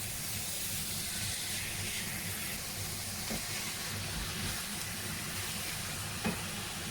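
Minced meat sizzles steadily in a pan as part of an eggplant dish, a constant broad hiss with low crackle running unbroken and fairly loud throughout, with no talking.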